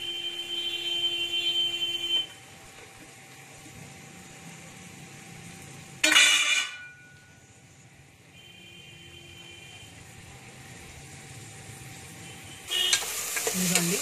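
Onion pieces and green chilies hit hot oil, bursts of loud sizzling at about six seconds and again near the end, with a quieter hiss and a steady high electronic tone in between.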